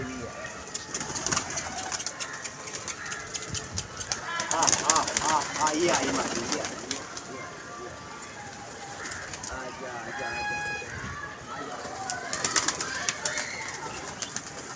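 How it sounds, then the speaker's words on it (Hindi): Pigeons move about a loft, with soft cooing and bursts of wing flutter close by, while people talk over them. "कबूतर आ रहे हैं जा रहे हैं।"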